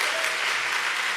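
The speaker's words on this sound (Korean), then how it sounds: "박수 한번 주세요" Audience applause at an afternoon church service during a ventriloquism performance, steady and close clapping filling the short moment without any voice over it.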